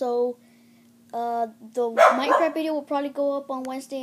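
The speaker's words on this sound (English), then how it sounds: "sorry about my dog barking a lot" A dog barks in short bursts close by, partly overlapping someone speaking indoors.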